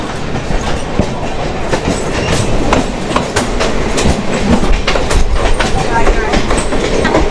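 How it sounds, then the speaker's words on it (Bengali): A passenger train rumbles past close by, steady and loud, its wheels clattering rhythmically over the rail joints. "এটা হচ্ছে প্যাসেঞ্জার ট্রেন"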